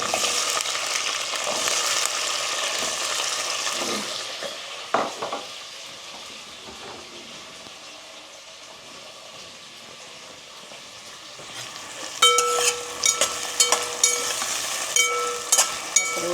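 Potatoes fry in very hot ghee with a strong sizzle that gradually quietens, broken by occasional scrapes, then sharp metallic clinks and clatters of a utensil against the pan near the end.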